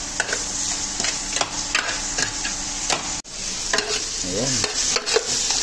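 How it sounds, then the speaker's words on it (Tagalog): Onion, tomato and garlic sauté in a pan, sizzling steadily as a spoon scrapes and stirs in repeated clicks, with a brief word spoken partway through. "Nag-caramelize na yung sibuyas, kamatis, bawang."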